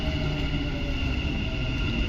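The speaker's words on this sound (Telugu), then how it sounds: "ట్రైన్ వచ్చేసింది." A Dubai Metro train pulls into a station with a steady, loud rail rumble and rolling wheel noise that holds evenly throughout, with no voices.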